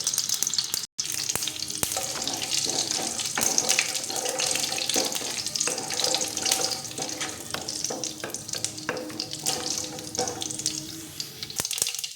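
Dense crackling and popping of mustard seeds spluttering in hot oil, continuous and close, a bright sizzling texture throughout with no voices.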